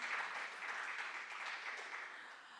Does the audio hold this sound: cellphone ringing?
no